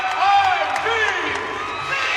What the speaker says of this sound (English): You can hear the crowd cheer behind me.